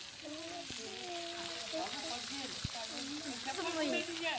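Food frying in a pan beside an outdoor popti clay-pot cookout on a cold night, a steady soft sizzle running throughout while people talk over it.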